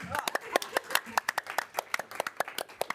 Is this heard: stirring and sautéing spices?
no